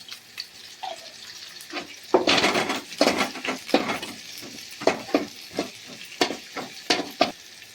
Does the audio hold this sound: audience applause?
no